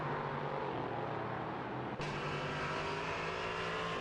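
Onboard engine of a Duqueine LMP3 race car in a sim racing game, a continuous high-revving drone with steady tonal whine and a sharp shift in pitch midway.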